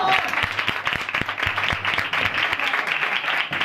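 A church congregation applauds after a testimony, a dense close burst of clapping that carries on steadily with voices mixed in underneath.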